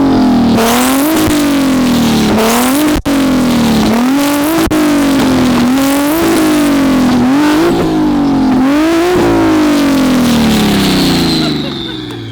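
A BMW G80 M3 revs hard and loud, its engine note sweeping up and falling back in a rapid series of blips close by, with voices faintly beneath the roar.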